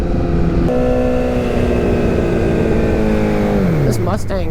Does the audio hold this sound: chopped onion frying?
no